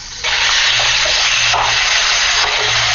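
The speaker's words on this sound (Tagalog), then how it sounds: "Habang ang tubig ay dumadaloy, na katulad ng naririnig natin" Water gushes loudly and steadily, a close broadband rush that starts abruptly and keeps going without pause.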